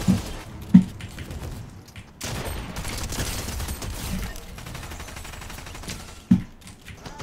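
Bursts of automatic gunfire from a newly picked-up weapon in a battle-royale video game match, rapid rattling volleys coming in stretches, with a few heavier thuds in between.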